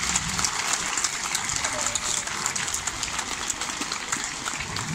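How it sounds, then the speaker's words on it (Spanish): A crowd at a religious horseback procession in Coeneo applauds for Our Lady of the Rosary, a steady dense clapping that fills the scene at moderate volume, close and continuous. "Un aplauso a Nuestra Señora del Cielo."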